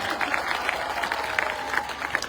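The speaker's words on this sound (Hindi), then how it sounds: "ताली बजाओ" Audience applause at the Dausa Dairy Premier League closing ceremony, a dense, steady wash of many hands clapping in a large outdoor crowd, continuous and fairly loud throughout.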